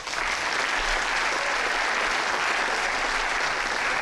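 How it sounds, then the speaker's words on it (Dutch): A dense, steady wash of audience applause for bassist Paul Mulder, who has just switched from bass guitar to double bass, at the Ouderen Songfestival finale, continuing evenly for a few seconds with no voices on top. "Geeft u hem een applaus, dames en heren"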